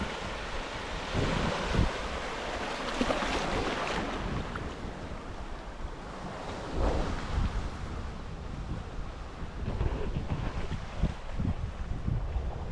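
Sea waves wash steadily onto secluded Nodalia sea beach in Bangladesh at ebb tide, a continuous surf roar mixed with gusty wind buffeting the microphone, with no voices.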